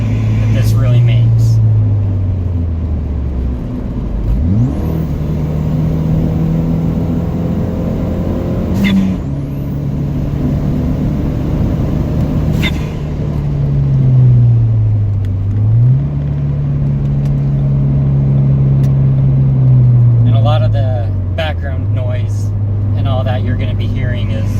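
A Ford Fiesta ST with a 2J-racing intake and a stiffer motor mount pulls in a lower gear, its engine drone loud and close, with pitch swelling and easing as the car accelerates on the road.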